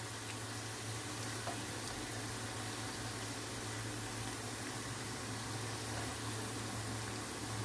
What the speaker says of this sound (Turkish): Hafif pembeleşene kadar soğanları kavuralım.